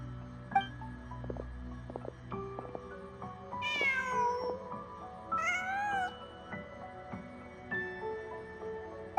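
In Genshin Impact, a cat gives two clear meows in the middle, each rising and falling, over soft game ambience and scattered tones with no talk.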